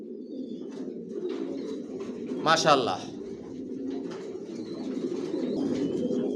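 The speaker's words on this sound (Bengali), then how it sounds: "টপ কোয়ালিটির কবুতর পালি আমার লফটে, জনসনের লংয়ের কবুতর।" Johnson long-line racing pigeons coo in a loft, soft and close, with one louder burst of cooing partway through, while someone speaks over the birds.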